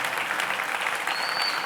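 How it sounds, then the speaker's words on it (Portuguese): A church congregation claps together in a broad, steady wash of applause. It carries on evenly for a moment with no speech over it. "Dá uma salva de palmas ao Senhor, por essas verdades maravilhosas"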